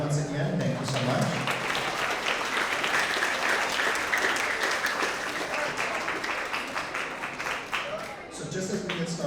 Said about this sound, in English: one big round of applause for Hannah once again